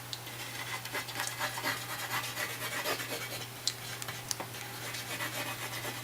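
A pencil sketches a hand on paper, making soft, continuous scratching strokes up close, with a few sharper taps as the strokes change direction.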